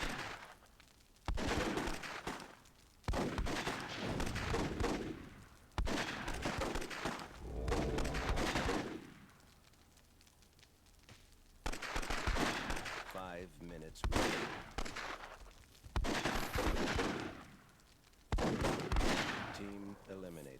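Fire grenade explosions in the Myth II Soulblighter video game burst out in repeated loud, crackling blasts separated by short quiet gaps, with a commentator talking through them.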